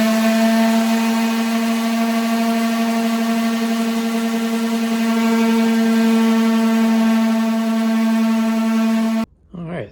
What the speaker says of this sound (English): now we're gonna clean the edges up with a little bit of sanding